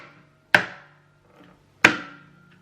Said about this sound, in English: we slap this area of our guitar with our